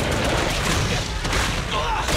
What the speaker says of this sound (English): I've got plenty of bullets. You're shocking them, huh? Big boy, here we go. Keep shooting.